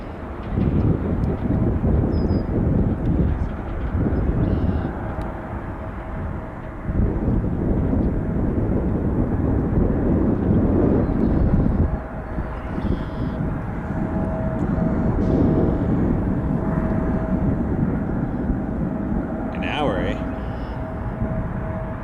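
A WestJet Boeing 737 Max 8, flight 476 from Winnipeg, arrives at Toronto Pearson in a crosswind, its engine roar and wind-buffeted rumble swelling and fading in broad waves while people talk intermittently over it.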